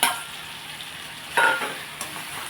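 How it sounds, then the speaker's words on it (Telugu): Tomato pieces and eggs cook in a pan, a low steady sizzle broken by a couple of sharp stirring scrapes and clinks. "టమాటా ముక్కలు మగ్గుతున్నాం. మన గుడ్లు కూడా వేసేసుకున్నాం."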